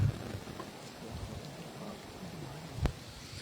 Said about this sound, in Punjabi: ਬਾਰਿਸ਼ ਹੋ ਰਹੀ ਹੈ